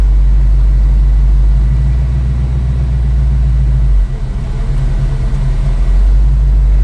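A 1966 Ford Mustang convertible's V8 engine idles with a deep, steady low rumble from its Flowmaster exhaust, close and loud, shifting slightly in tone partway through.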